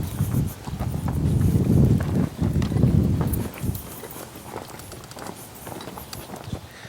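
A horse walks at an easy pace, its hooves clip-clopping in a steady, fairly close rhythm that fades somewhat toward the end, with no talk over it.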